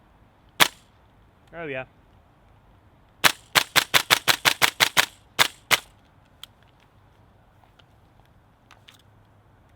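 Tokyo Marui M4 MWS gas airsoft rifle firing BBs outdoors in snow: a single sharp crack, then a quick string of about ten snappy shots and a couple more, close and loud, with a brief spoken remark.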